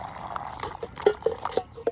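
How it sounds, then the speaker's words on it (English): Water strained through the lid of a GSI Outdoors Halulite Microdualist II camping cookset pot, a soft trickle with scattered close drips and plops, fairly quiet, with no talking. "let's go ahead and strain our water through"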